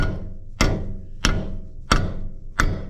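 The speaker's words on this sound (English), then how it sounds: "Proper way to actually get it loose is to hit the side." A hammer strikes the side of a Toyota Tacoma 4WD steering knuckle to loosen the tie rod end: five sharp metallic whacks, evenly spaced about two-thirds of a second apart, close and loud with no talk.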